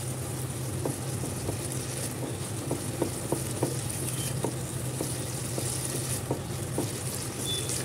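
Ginger, green chillies and tomato frying in a pan for a spiced potato-cauliflower curry, a steady low sizzle with scattered soft clicks of stirring running throughout, fairly quiet and close.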